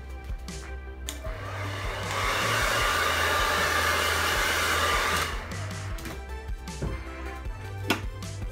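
A hair dryer blow-drying thick hair gives off a steady, close airy whir with a low motor hum. The whir swells louder in the middle as the airflow shifts, then eases back.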